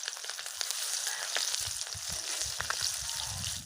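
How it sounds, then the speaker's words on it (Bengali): Spiced rohu fish pieces, rubbed with salt, chilli powder and turmeric, fry in hot oil for a Bengali rui kaliya, giving a loud, steady sizzle with scattered crackles and pops close up and no talking. "এবার একটা একটা করে ভেজে নেবো আমি"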